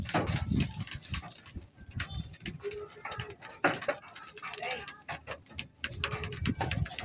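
Racing pigeons feed after returning from a 121 km race, making faint soft cooing and pecking clicks at close range while a voice talks quietly in the background.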